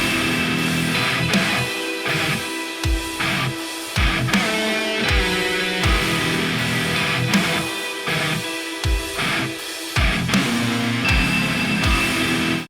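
A heavy, chugging distorted electric guitar riff, pitched down three semitones through a Digitech Whammy DT, pounds in tight syncopated bursts with brief choked gaps, loud and alone.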